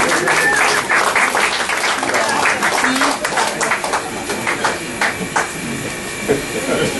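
A roast audience claps loudly and steadily, the applause thinning slightly in the later seconds, with some voices mixed in.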